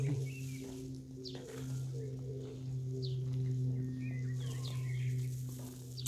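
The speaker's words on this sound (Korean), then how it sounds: "새소리가 아주 우렁차게 노래를 불러주고 있습니다." Several birds sing in a Korean-style garden with tiled landscaping, repeated chirps and short warbling phrases rising over a steady low hum, moderately loud and near.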